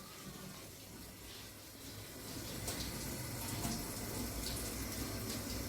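Kitchen tap running steadily as green pepper, thyme and scallion are rinsed for Jamaican rice and peas, a soft continuous splashing hiss with faint shifts as the produce moves under the stream.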